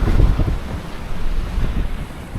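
Wind roaring across open sea with long-period ocean swell, a heavy low rumble of wind buffeting the microphone over wash of water against a small boat, steady and loud.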